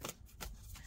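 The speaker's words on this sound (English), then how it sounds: "Yeah, you want me to shuffle?" A short, close riffle of a large oracle card deck being shuffled, quick papery fluttering bursts in rapid succession.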